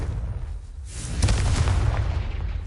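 A Confringo fire spell explodes in Hogwarts Legacy as a loud, rumbling boom that swells after a quieter start and then trails off in a broad roar, with no voices.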